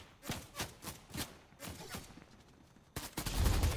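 Gunfire in Fortnite comes as rapid repeated shots in uneven bursts, close and punchy, ending in a louder, denser burst of fire.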